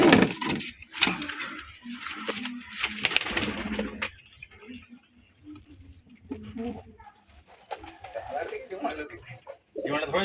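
Pigeons flapping their wings in a loft, bursts of fluttering clustered near the start, then quieter rustling with faint bird calls and a voice speaking under it.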